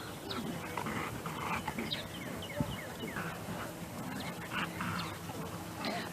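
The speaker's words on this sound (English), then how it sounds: "The puppy is playing with the old dog." An old dog and a puppy play together outdoors in a park, giving soft whimpers and yips over steady outdoor background noise, with brief voices in the distance.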